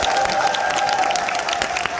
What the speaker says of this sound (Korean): 이 먼 걸음까지 남수단에 날라오신 우리 감독님께 큰 박수 부탁드리겠습니다